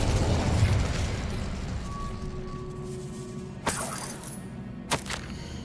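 In Hogwarts Legacy, the Incendio fire spell goes off with a muffled burst and then a rushing roar that fades. Two sharp, brief crackling pops come later, with no speech over them.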